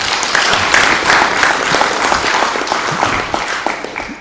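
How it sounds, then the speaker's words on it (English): An audience at a health ministers' conference in Lilongwe, Malawi, applauds: loud, full clapping from many hands that stays steady, then tapers slightly toward the end, with no talking over it. "Let's give her another round of applause."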